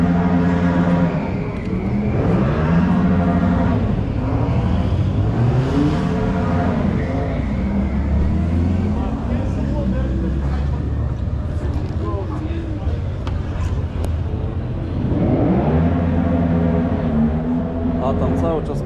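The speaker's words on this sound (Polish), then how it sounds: "A tam cały czas pałują te auta," Old cars revved hard at a vintage car fair in Wrocław, engines surging and falling in repeated bursts over a busy crowd with people talking nearby.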